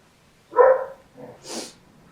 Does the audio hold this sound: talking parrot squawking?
no